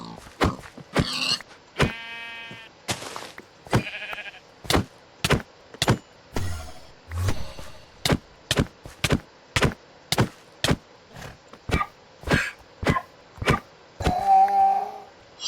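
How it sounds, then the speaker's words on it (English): Donkeys die in Minecraft (FTB Skies 2), heard as a long run of sharp, evenly spaced hit thuds with short braying death cries mixed in. The sounds are close and loud, with quiet gaps between them. "I thought the horses' death noises are bad. The donkeys are worse."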